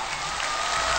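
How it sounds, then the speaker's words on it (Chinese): A stage-show audience claps for pianist Lang Lang and Tia, a brief burst of dense crowd applause that swells slightly toward the end. "掌声送给朗朗跟 Tia"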